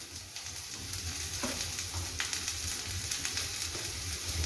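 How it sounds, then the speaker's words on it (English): Cabbage, beans, capsicum and carrot stir-frying for Schezwan fried rice on a high flame give a steady loud sizzle, broken by occasional scrapes and clinks of stirring, with no talk. "And now on this high flame, I am going to cook all these vegetables for 4 minutes."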